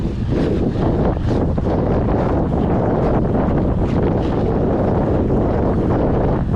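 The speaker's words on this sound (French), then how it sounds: "comme c'est le cas là maintenant, vent dans le dos." Wind blows hard into the microphone of a mountain biker riding with the wind at his back, a loud, constant low roar and buffeting rumble that fills the whole clip with no talking.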